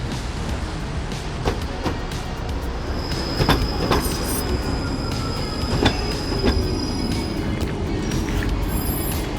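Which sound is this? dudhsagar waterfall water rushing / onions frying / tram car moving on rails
tram car moving on rails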